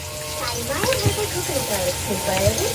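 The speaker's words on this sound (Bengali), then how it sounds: "ভাজা হচ্ছে" Close sizzling and crackling of food frying in hot oil, with bubbling bursts throughout a short stretch and a faint voice in the background.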